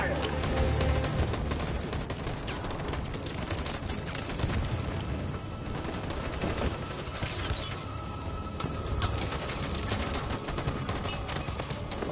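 Sustained gunfire from soldiers in the video game Detroit: Become Human, a dense continuous barrage of shots and booms with no pauses, with shouted voices now and then.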